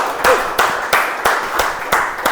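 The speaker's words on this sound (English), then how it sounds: "let's give a big round of applause for Toastmaster Loknath" Audience at a Toastmasters club meeting claps in slow, evenly spaced bursts, about seven sharp hand claps in a row, fairly close and alone without talk.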